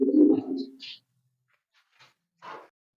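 Beauty pigeons at a pigeon farm in Hatimara, Kashimpur, Gazipur give a short, throaty coo up close, followed by a few faint flutters and rustles in otherwise quiet surroundings.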